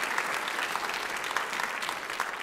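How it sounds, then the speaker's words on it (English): A full round of applause from an audience at an evening Martin Luther King Jr. celebration, dense steady clapping filling the room throughout. "let's give her a nice round of applause."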